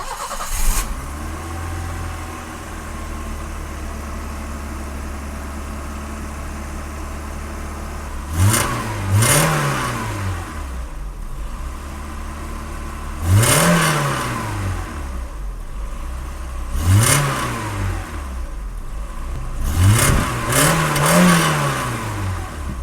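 A BMW E30 engine idles steadily at close range with the idle control valve opened fully, and its low hum rises and falls in several brief surges as the idle speed fluctuates.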